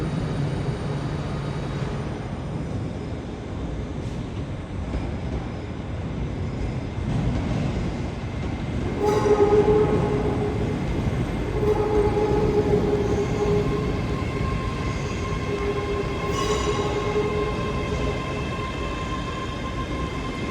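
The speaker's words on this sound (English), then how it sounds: "arriving now is a ScotRail service from Edinburgh, 385010." A ScotRail class 385 electric train from Edinburgh rolls into Glasgow Central station, a steady loud rumble with rising whine and squealing brake tones as it slows, no voices.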